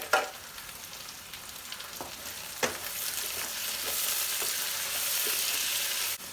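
Tomatoes and butter frying in a pan, a steady close sizzle with occasional stirring clatters and spatula taps, continuous throughout with no voices.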